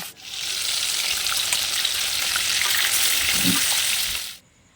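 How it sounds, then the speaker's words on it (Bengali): Small puti fish hit hot oil in a pan and give a loud, continuous close-up frying roar that holds steady for several seconds, then cuts off abruptly. "তেল গরম হয়ে গেছে আমি মাছটা এক এক করে ভেজে নেব"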